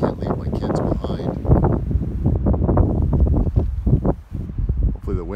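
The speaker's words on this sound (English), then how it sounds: "Wind's not interfering too much." Wind buffeting a microphone outdoors in a parking lot, loud rumbling gusts that thump and roar unevenly throughout, with some voice-like sound mixed in.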